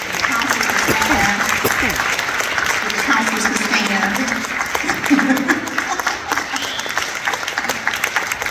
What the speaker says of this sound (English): give a great hand clap to the counselors who helped us make this possible